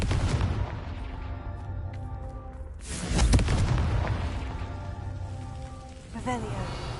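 A Confringo fire spell explodes in a video game as a single booming blast midway through, rising out of a steady bed of tonal background sound and fading slowly.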